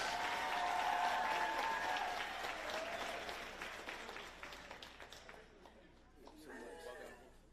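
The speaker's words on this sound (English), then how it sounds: "Give him a round of applause." Audience applause at a virtual career academy closing celebration honoring an award winner, a full crowd clapping loudly with chatter, then tapering to scattered claps and a brief renewed swell near the end.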